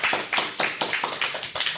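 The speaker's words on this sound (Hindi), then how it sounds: "तो जोरदार तालियां हो जाए इस बात पर" Quick rhythmic hand clapping from an audience at a school children's performance event, a steady run of sharp claps lasting under two seconds.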